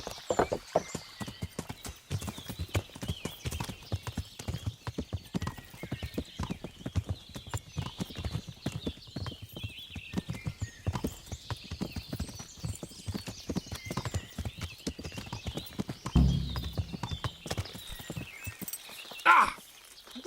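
Horse hooves clip-clop steadily at a walking pace in the medieval game Kingdom Come: Deliverance, with occasional whinnies and thumps, moderately loud throughout.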